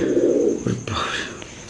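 An opal-coloured Bombay pigeon gives a soft, throaty coo close by, with a brief scuffle of movement and a faint chirp afterward.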